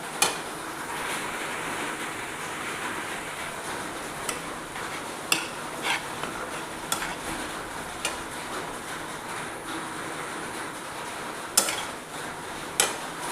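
An egg dish being sautéed and stirred in a pan, with a steady soft sizzle and irregular light clinks and scrapes of a utensil against the pan, close and fairly quiet.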